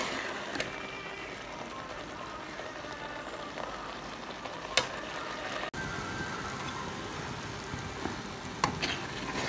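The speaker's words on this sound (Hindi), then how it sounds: "नारियल को मैं भून रही हूँ।" Grated coconut, with its milk cooked down and releasing oil, roasting in a pan for coconut sweets, heard as a continuous soft frying hiss with scraping stir strokes and an occasional clack of the spoon.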